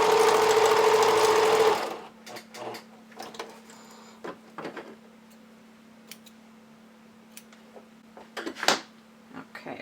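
A serger sews a seam on a stretchy lining for sequin-front panties, running loud and steady for about two seconds, then stopping; a low hum continues beneath scattered small clicks and handling noises.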